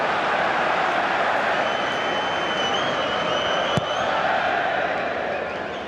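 A football stadium crowd at an Oxford United versus Newcastle United match roars and whistles steadily, a dense wall of voices demanding a free kick, loud and continuous, with one sharp whistle cutting through midway.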